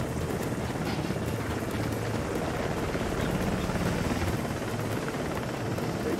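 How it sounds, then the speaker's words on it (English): Continuous helicopter rotor and engine noise, loud and steady with a rough, thumping texture and some wind buffeting, no talking. "if you hear a helicopter, that's me"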